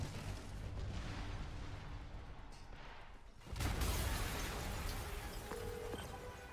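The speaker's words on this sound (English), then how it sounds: "Yuri, an explosion just..." A loud, sudden boom from an explosion in Spider-Man Remastered on PC erupts midway and rolls into a sustained, heavy rumble over a low ambient background.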